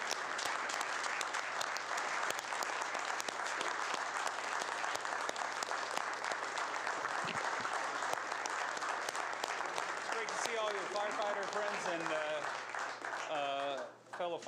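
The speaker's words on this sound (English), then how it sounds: "Give him a round of applause." Applause from the audience at a Marion Common Council meeting, a long steady wash of clapping that holds for most of the stretch before thinning out, with voices starting to speak near the end.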